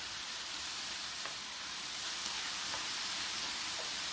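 Coriander sizzles steadily in a hot pan as it is stirred, a quiet even hiss with a few faint scraping taps.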